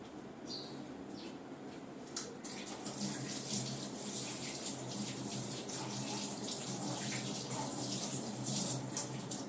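Tap water runs steadily into a sink as hands are washed, a soft continuous splashing hiss with a few faint clinks, fairly quiet and close.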